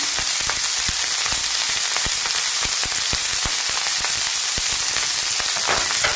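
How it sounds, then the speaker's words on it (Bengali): Leftover rice fries in a hot pan with turmeric powder and salt, giving a loud, continuous crackling sizzle with scattered sharp pops, close up and steady throughout with no talking. "ভালো করে আমি ভাতটাকে ভেজে নেব"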